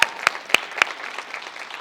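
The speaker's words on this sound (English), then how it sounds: "Give them a round of applause." Short audience applause for speakers at a women's textiles industry summit, a few distinct claps standing out over a soft, fading patter of hands.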